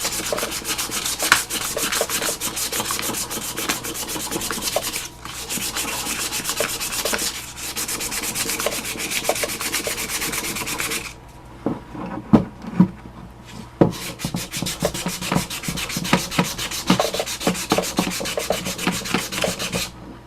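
Sandpaper rubbed by hand along a wooden ottoman leg during furniture refurbishing, steady rasping strokes close up, pausing briefly and then continuing in shorter uneven scrapes.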